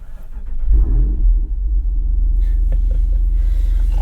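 A 2022 Jeep Wrangler 392 engine fires up and settles into a loud, deep, steady idle rumble that carries on without anyone speaking.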